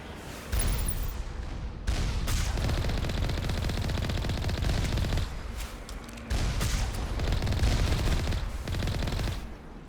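Turrets fire in Mass Effect, sending out long sustained bursts of rapid gunfire that stop briefly and then start again. The shooting is loud, dense and continuous, with no talking.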